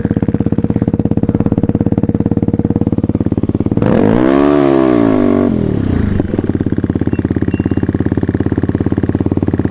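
A Kayo 110 motorcycle engine idles with a steady chugging pulse, then revs sharply up and back down before settling into its idle again.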